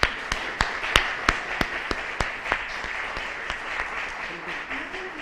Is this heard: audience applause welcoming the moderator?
yes